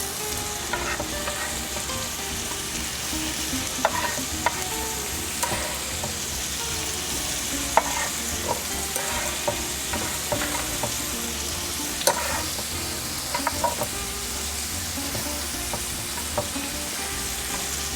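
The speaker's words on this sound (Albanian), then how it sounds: "Dhe tani do të fillojmë të skuqim qepën përpara" Chopped onion fries in a pan with a constant close sizzle and crackle, broken by occasional clicks and scrapes of stirring, with no voices.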